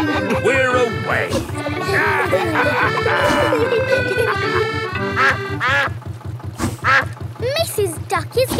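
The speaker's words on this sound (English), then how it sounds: "Mrs. Duck is going faster than our boat." A cartoon duck in Peppa Pig quacks in a quick rhythmic string over a chugging canal boat engine, loud and close, with playful background music.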